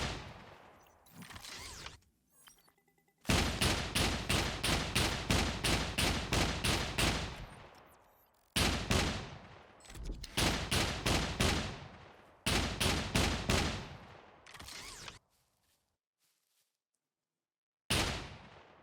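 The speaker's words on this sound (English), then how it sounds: "There's his other fire mode. It's like a plasma cannon kind of thing." A mech in the video game SCUM fires its plasma cannon mode in rapid, loud repeated bursts, several long volleys separated by short pauses and near-silence.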